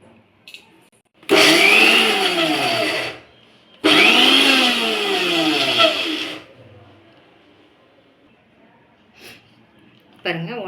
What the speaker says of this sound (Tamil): இப்போ வந்து இதை வந்து மிக்சியில் போட்டு சும்மா ஒரு 2 சுற்று விட்டு நம்ம வந்து பவுட்ரு மாதிரி பண்ணிக்கலாம்.